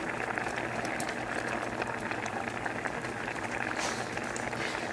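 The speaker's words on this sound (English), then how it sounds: "So when it starts boiling like that," Pot boiling steadily while country chicken cooks, a continuous bubbling, hissing wash that stays even and fairly quiet throughout, with no talk.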